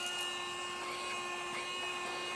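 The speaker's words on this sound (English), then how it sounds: "it's definitely not a very strong vacuum" A Baseus C2 capsule desktop vacuum runs continuously with a thin, steady whine and airy hiss, close and moderately quiet, with no talking.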